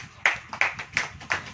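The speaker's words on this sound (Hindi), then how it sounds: "ताली बजाओ" A congregation at a church service claps in unison, four sharp, evenly spaced group claps about a third of a second apart, loud and close with no talking over them.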